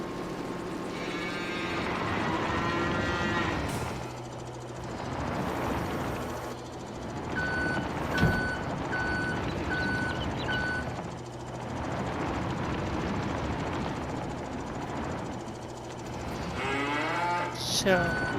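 Cattle moo repeatedly in the Farming Simulator 22 video game, several drawn-out calls spread across the scene over a low mechanical hum, with no talking.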